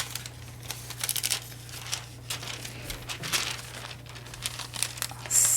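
Foil sheet peeled slowly off a toner-printed card, giving a run of close crinkling and crackling over several seconds, with a steady low hum underneath.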